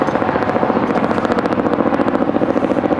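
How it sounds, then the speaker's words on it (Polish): A helicopter passes overhead near Strečno Castle in Slovakia, its loud, steady rotor chop pulsing rapidly and continuously throughout with no voices. "Niech helikoptery latają."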